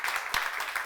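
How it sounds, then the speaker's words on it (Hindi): Studio audience applauding at a televised talk show, a steady wash of clapping from many hands at moderate volume, continuous and unbroken for its whole short length. "जोरदार तालियां इस बात के लिए दोस्तों।"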